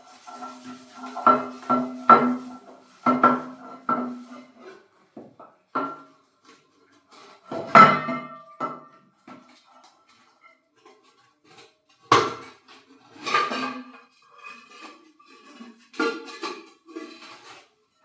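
Metal utensils and containers being washed during festival house cleaning: irregular clanks, knocks and scrapes of pots and tins, some louder bursts, with brief quiet gaps and running handling noise throughout.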